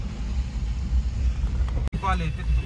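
Road traffic rolls past at the foot of a hill fort on a busy Sunday: a continuous low engine rumble from nearby vehicles, with a brief voice-like sound partway through.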